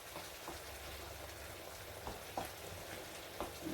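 Vegetables for salade méchouia cooking gently over low heat in a pan, a soft steady sizzle with faint crackles and a few small pops, no voices.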